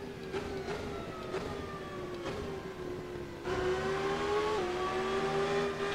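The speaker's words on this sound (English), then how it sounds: "150 miles an hour and we're still not even really in the power band of this V10 engine" A Williams FW19 V10 race car engine in a racing video game screams at high revs, its pitch rising and shifting through gears, with brief clicks and a louder surge midway; no voices.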